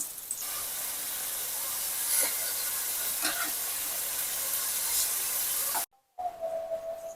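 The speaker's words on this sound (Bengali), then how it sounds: "এখন মাছটা ভুনা করব, পেঁয়াজ কুচি দিয়ে দিলাম।" Fish and chopped onion fry in a pan, giving a loud, dense, steady hiss of sizzling oil that cuts out briefly near the end and then returns more quietly. No one speaks.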